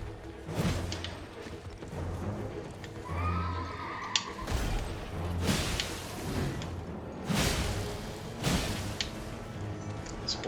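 Horse in the Elden Ring video game, loud whinnies and neighs, repeated several times, mixed with hoof thuds and swooshing combat sounds in a steady, busy game soundscape.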